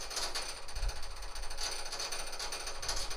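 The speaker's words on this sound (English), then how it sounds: "You can really hear it siphoning now. There's a marble in the end of that brass piece, and it's just whipping around as the fuel's coming out." Fuel siphons out of a tank through a 3/4 inch hose, a marble inside the brass fitting on its end rattling rapidly and continuously, a close, busy clattering buzz over a rushing flow.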